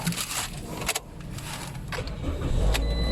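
A 2018 Toyota Corolla engine cranks and catches after a fuel pump replacement, brief mechanical clatter and whirring giving way to a rising low rumble as it runs, heard close up with no talking.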